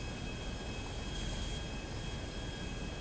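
Airplane engine roaring steadily at close range during takeoff in the video game GTA V, a continuous broadband drone that holds at a constant loudness throughout with no talk over it.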